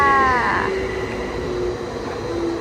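An electric train in Finland hums and rumbles steadily as it arrives at a station, with a descending electric whine early on and a few faint tonal beeps, continuous and fairly close.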